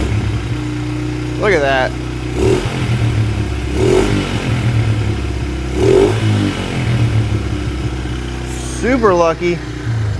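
A small ATV or dirt bike engine, just fitted with a refitted carburetor, runs and revs in a few bursts at close range, with voices talking over the engine noise.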